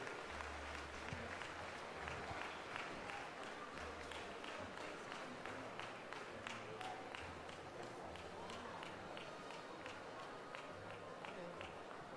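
An audience at a dog show claps in sustained, even applause that carries on throughout, faint and somewhat distant, with a steady low hum underneath.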